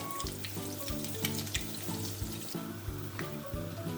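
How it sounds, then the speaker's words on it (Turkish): Egg-soaked bread slices frying in a pan, a steady bright sizzle with crackling pops running throughout, close and alone without any talking. "kızartmaya bırakıyoruz"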